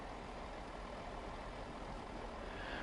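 A train in Train Sim World 2 runs under light braking pressure, a steady broadband rumble and hiss of rolling and brake air, even and continuous with no distinct events.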